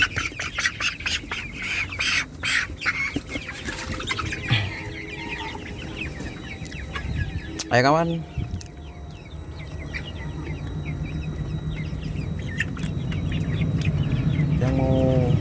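Young male chickens, about 45 days old, in a flock of 400 cluck and squawk busily, with a rooster-like call near the middle and a brief voice early on.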